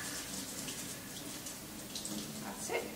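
Quinoa is rinsed under a running kitchen tap, a steady, fairly quiet water hiss with light splashing and a few sharper trickles toward the end, with no talking.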